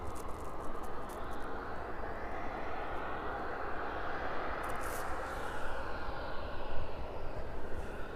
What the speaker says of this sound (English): Just check for any movement then on that Jet 2 off to Malaga.